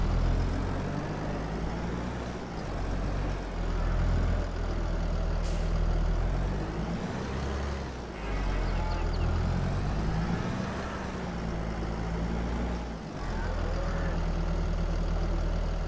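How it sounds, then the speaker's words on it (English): A farm tractor in Farming Simulator 22 drives into a shed, its diesel engine a loud, steady low rumble that rises and dips with throttle, marked by a couple of brief hissing bursts. "And stick the tractor back in the shed"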